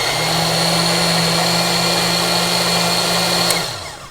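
A blender whirs steadily, blending strawberry smoothie with orange juice: a loud, constant motor drone held for several seconds, then spinning down as it stops at the end.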